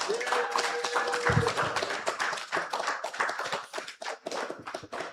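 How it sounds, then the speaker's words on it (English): Audience applause for Team 2 at a national climate outlook forum held by the Antigua and Barbuda Meteorological Service, a steady round of clapping from a mid-sized crowd in a hall, with a brief voice early on. "Another round of applause for Team 2."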